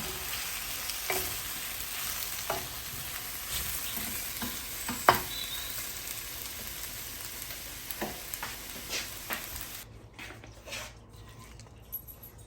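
Chinese pork stir fry sizzles over high heat in a pan, with intermittent utensil scrapes and taps as it is tossed and mixed, the frying dropping away near the end.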